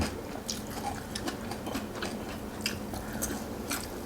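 Someone chews raw winged beans close to the mic, with soft, steady crunching and clicking bites repeating at an irregular pace over a quiet background.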